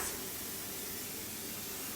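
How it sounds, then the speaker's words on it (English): A continuous close hiss of aerosol cooking spray on baking pans runs for a couple of seconds without pause. "Spray your forms."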